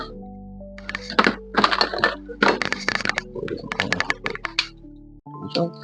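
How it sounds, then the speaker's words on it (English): Shears cut branches off a jade bonsai in a series of close, sharp snips and woody clicks, irregular and spaced over several seconds. "I'll shorten these longer branches so that it'll look a little bit more like a tree. So I will cut this bit off."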